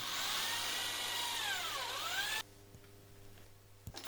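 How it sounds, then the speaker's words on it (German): A power drill whines steadily while boring dowel holes through a U-profile strip, its pitch dipping and recovering mid-run before it stops abruptly, leaving a quiet room with a couple of faint knocks. "darüber kommt die U-Profilleiste, die muss auch gebohrt werden, damit die Dübel durchgehen"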